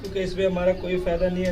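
Soft pigeon cooing blends into someone talking steadily in the foreground, the low throaty calls partly masked by his voice.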